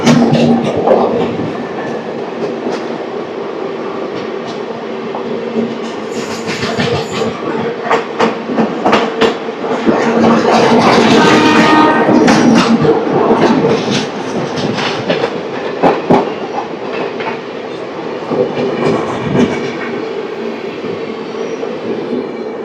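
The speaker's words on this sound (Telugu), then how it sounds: "ఇప్పుడే ఇప్పుడే బంగారపేట జంక్షన్ నుంచి ఒక ట్రైన్ అయితే వస్తుంది" The SMVT Bengaluru–Danapur train rumbles into Bangarapet Junction station, its wheels clattering rhythmically over the rails with occasional metallic squeals, loud and close throughout.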